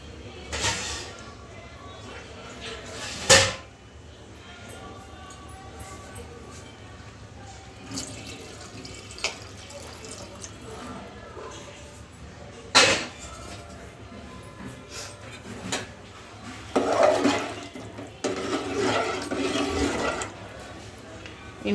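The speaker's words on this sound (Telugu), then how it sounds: "ఇంకొన్ని వాటర్ యాడ్ చేసుకుందాము." Water added to a pot of taro curry on a high flame gives a splashing pour with sharp clatters, the pouring strongest near the end, over a steady background hum.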